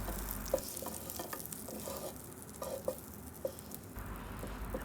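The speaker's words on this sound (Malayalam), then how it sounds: "ബട്ടർ ഒന്ന് മെൽറ്റായി വരുന്നുണ്ട്." Butter melting in a pan for pasta gives a soft, steady sizzle with scattered light pops and clicks, quiet and close, with no talking.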